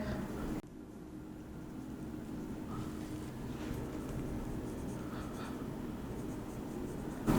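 A pen scratches and taps across a page while writing out a mathematical definition, a quiet, continuous run of small strokes over faint room hiss.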